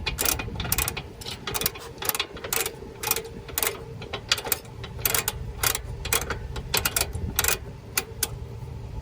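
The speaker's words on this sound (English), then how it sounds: "So we tighten this down, you'll hear it click" A ratcheting trailer hitch lock being tightened onto a tow ball, giving a steady run of sharp, close clicks at a quick, slightly uneven rhythm, with no talk over it.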